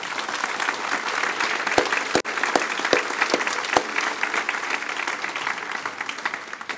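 A crowd at a State of the City address applauds city commissioners and the mayor pro tem, dense clapping that holds steady with a few sharper close claps standing out near the middle.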